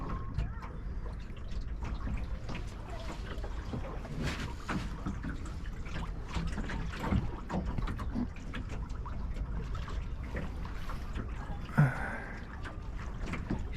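A small sailboat moves through water, with soft, close sloshing, trickling and drips against the hull over a low, steady wash of wind and waves.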